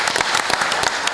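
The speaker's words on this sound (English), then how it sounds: "Chief, stand and let's give him an applause." At a Howe city council meeting, the audience applauds the police chief with brisk, close clapping from a modest crowd, sharp individual claps blending into a steady patter for just over a second.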